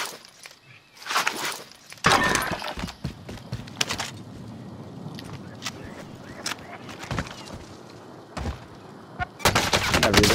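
Gunfire in a battle royale video game, with sharp bursts and sustained volleys of shots scattered across the stretch, some close and loud, interspersed with footsteps and quieter gaps while players talk.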